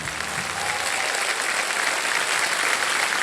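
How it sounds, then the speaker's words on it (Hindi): Studio audience applause on the quiz show KBC swells into a loud, dense, continuous roar of clapping for over three seconds, with a brief voice at the start. "और तालियां बज जाए इनके लिए।"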